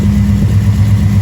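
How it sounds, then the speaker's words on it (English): A 1973 Dodge Dart engine idling at about 800 RPM through a longer exhaust, giving a loud, deep, steady rumble close by with no other sounds. "Sounds a lot better having longer exhaust"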